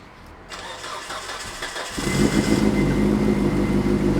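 A roughly 600-horsepower Mitsubishi Evo 8 MR turns over with a brief starter crank, then catches and settles into a loud, steady idle that stays close and strong to the end.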